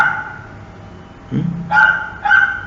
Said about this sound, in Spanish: Si ustedes sienten de repente ladridos, son de un perrito más o menos grande que vive en el 4º piso de un edificio que hay al frente de mi casa